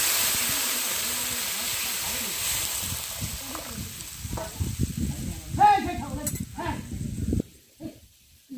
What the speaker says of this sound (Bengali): আর এখন আমি দিয়ে দিচ্ছি জল।